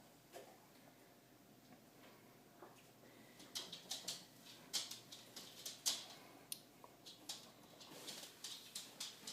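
Birds calling around a yard and up on a nearby hillside, with sharp chirps and coos scattered through the clip, building in number toward the middle and continuing in irregular bursts over faint background.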